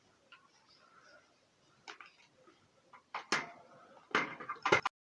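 A knife chopping eggplants on a cutting board, with sparse light taps early, then a few sharper, louder chops near the end, close and without talk.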